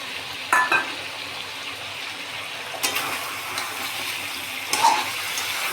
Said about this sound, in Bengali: এখন এর মধ্যে যে মশলাটা আমি বানিয়ে রেখেছিলাম সেটাকে দিয়ে দেব